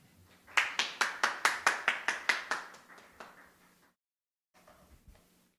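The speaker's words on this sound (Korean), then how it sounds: "함께 나오실 때 박수 한번 보내드리겠습니다." A church congregation claps together in a strong, even rhythm of about ten beats, then the claps fade out into scattered softer claps. A brief silence follows, then faint room noise returns.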